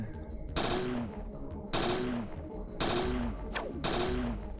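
Repeated bursts of gunfire from the video game Parasite Eve 2, four loud broadband volleys spaced about a second apart over a steady low in-game background hum, with no talking.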